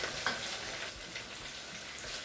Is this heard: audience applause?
no